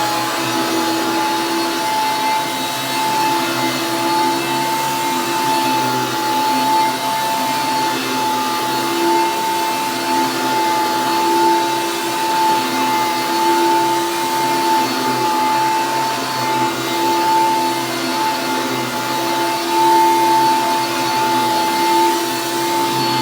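A Hoover upright vacuum cleaner runs steadily on carpet at the third height setting, giving a loud, continuous motor drone with a sustained whine and a faintly uneven, slightly odd tone throughout, with no talk.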